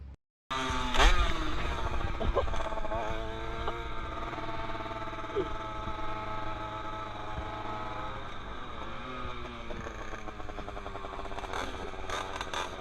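A limited-edition 50cc motorcycle being ridden, its small two-stroke engine buzzing loudly and continuously with shifting pitch as it revs and holds speed, close up after a brief silent start.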